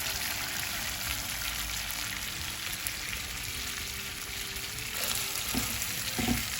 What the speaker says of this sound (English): So basically it takes around 10 minutes to cook these prawns.